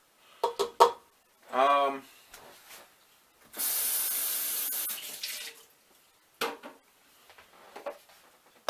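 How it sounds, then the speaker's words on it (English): Tap water runs in a loud, steady gush for about two seconds as a cup of sourdough starter is rinsed out, bracketed by short clinks and handling knocks from the kitchen counter, with a brief voice-like sound early on. "I'm going to use the water to get the rest of the starter out of the cup"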